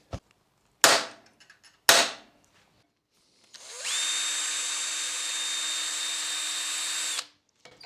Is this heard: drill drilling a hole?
yes